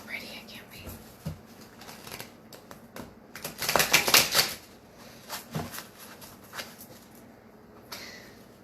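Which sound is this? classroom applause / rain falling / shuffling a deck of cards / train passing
shuffling a deck of cards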